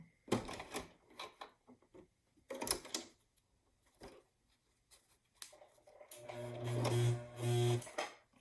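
A home sewing machine stitches across the thick interfaced top hem of a surgical mask in short, clattering bursts with pauses, then runs in a steadier, louder humming stretch near the end. The machine is close and no one talks.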